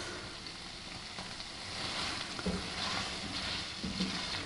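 Hot fish stock is poured into a pan of linguine with scampi, producing a steady frying sizzle with soft stirring noises, fairly close and continuous, with no talk.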